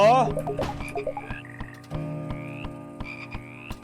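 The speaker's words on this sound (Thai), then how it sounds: "เสียงกบ" Frog croaking in the horror video game House, a series of rhythmic, close croaks repeating roughly every half second, loud and heard alone.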